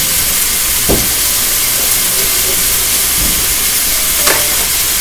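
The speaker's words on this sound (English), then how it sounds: "Now while that's stir frying" Steady hissing sizzle of chicken fried rice stir-frying in a hot pan, continuous and close, with a few brief scraping clicks of a utensil.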